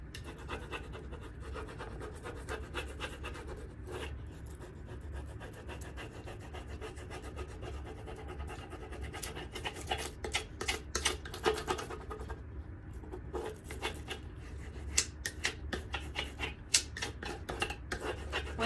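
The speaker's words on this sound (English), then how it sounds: "Then I'm going to take my tool and rub all over the whole entire thing" A tool rubbed firmly back and forth over a rub-on transfer sheet, giving a steady scratchy rasp with frequent short strokes that grow denser and louder toward the end, close up and with no talking.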